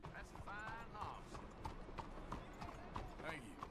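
Horse hooves clip-clop at a steady walking pace in the Red Dead Redemption 2 video game, a moderate rhythmic patter set against a busy ambient background with talk over it.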